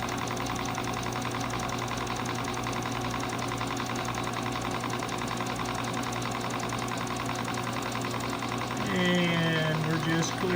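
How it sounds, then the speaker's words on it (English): A milling machine runs its cutter along a gear rack, a dense steady mechanical hum and rhythmic chatter throughout, close and loud, with a brief squealing tone near the end as the cutter runs off the part. "Just let the cutter run off the end of the part here."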